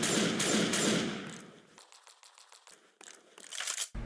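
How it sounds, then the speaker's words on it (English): Combat shotgun in Left 4 Dead 2 blasting in heavy booming shots at first, then a run of sharp mechanical clicks and clacks, ending in another burst. "Next up is the combat shotgun."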